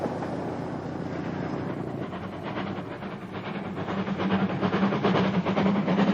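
A diesel train rumbles along the rails in Northern Ireland with a steady, building roar and faint rhythmic clatter, growing louder toward the end.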